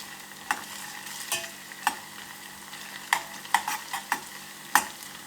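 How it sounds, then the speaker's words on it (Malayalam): Chopped ginger fries in a pan, giving a soft continuous sizzle broken by scattered sharp clicks and scrapes as it is stirred. "ജസ്റ്റ് 1 മിനിറ്റ് നമുക്കിതൊന്ന് ഫ്രൈ ചെയ്തെടുക്കാം."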